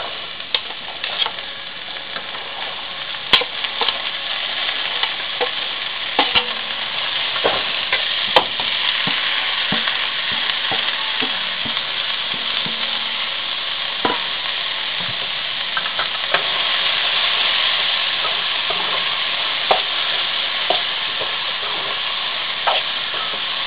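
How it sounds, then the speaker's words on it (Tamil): Onion and chopped broad beans sauté in a pan with frequent stirring, a steady near sizzle punctuated by sharp utensil scrapes and clinks against the pan over more than twenty seconds, no speech. "வெங்காயம் நல்லா வதங்கிடுச்சு. காய் சேர்த்துலாம்."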